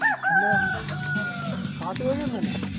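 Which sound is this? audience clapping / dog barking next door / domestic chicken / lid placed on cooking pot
domestic chicken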